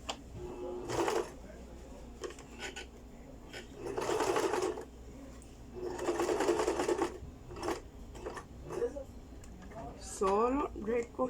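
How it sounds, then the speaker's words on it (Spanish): A sewing machine stitches a rectangle on a welt pocket in several separate runs, each a steady, close mechanical whirr lasting a second or two, with pauses between and a voice speaking throughout. "vamos a posicionar sobre nuestra máquina, ¿verdad? Y vamos a coser haciendo ese rectángulo"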